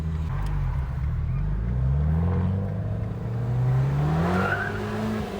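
Abarth 595 with a catback exhaust and Stage 1 E85 tune roars loudly close by, its pitch climbing steadily as the turbo spools, with faint voices in the background.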